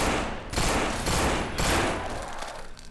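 Rapid automatic gunfire in the No More Room In Hell video game, a continuous loud close burst of shots with several sharper peaks, running the whole length without speech.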